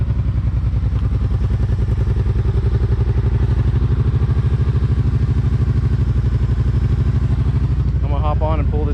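A Kawasaki Brute Force 750 ATV idles after sitting for a month, a loud steady low thumping engine rumble close by, with a voice speaking over it near the end.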